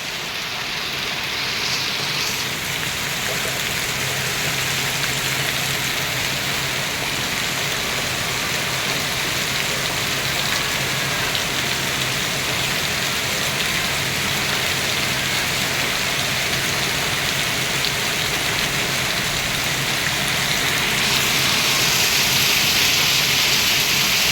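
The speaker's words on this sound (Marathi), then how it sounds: "आता जर असा पाऊस पडत राहिला" Heavy rain pours down continuously, a dense hiss with a faint engine idling underneath and no voices.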